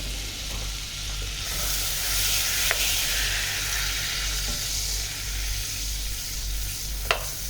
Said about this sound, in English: So into a pot goes the butter.